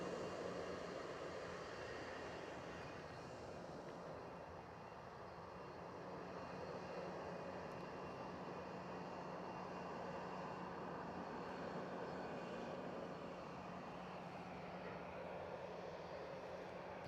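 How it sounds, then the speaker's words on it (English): ATR 72 turboprop airliner at Edinburgh Airport, a steady distant engine drone that holds at a constant level throughout, heard outdoors with no talking. "So there's an ATR 72, I'm thinking, behind this."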